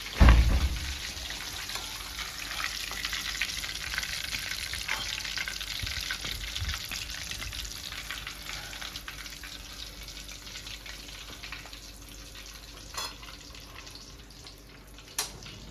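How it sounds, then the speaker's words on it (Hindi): Oil heats and sizzles in a pan while chicken lollipop gravy is being made, a loud, continuous frying hiss that holds steady throughout with a few sharper pops near the end. "तेल गरम करने रख दिया हुआ है फ्रेंड्स।"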